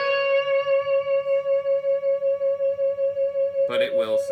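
Electric guitar on a Stratocaster holds one steady note through a Fernandes sustainer on the bridge pickup, ringing evenly with a slight pulsing wobble, loud and alone, until a brief burst of speech cuts in at the end.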